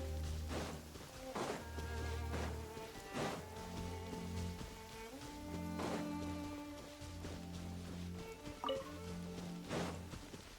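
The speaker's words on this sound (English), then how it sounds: "It's raining again." Rain falls steadily in the video game Genshin Impact, a constant hiss of drops under gentle game music with soft tonal notes and occasional louder splashes, at a low overall level.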